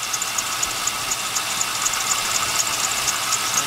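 Idling engine of a 2000 Pontiac Trans Am with a vacuum leak, a steady mechanical hum with a faint regular ticking and a thin high hiss running over it, close and continuous.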